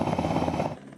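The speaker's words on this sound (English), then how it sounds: "Helicopter after helicopter after helicopter." Rescue helicopter rotors thud steadily overhead above flooded Hawke's Bay after Cyclone Gabrielle, a loud beating drone that fades off toward the end.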